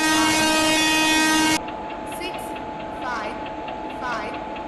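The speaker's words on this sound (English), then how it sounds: "Goods Express is scheduled to depart from platform number 2" A long, loud horn blast from a train in an Indian railway video game cuts off abruptly, giving way to the rumble and clatter of the departing train and a few fainter squeals.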